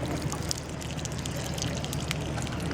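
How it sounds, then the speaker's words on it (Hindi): Water trickles and pours steadily into the soil of a potted snake plant, a soft continuous splashing stream lasting a few seconds at close range, with no talking. "अब हम इनके अंदर थोड़ा सा पानी डाल लेते हैं"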